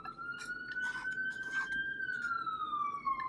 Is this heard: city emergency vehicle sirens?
yes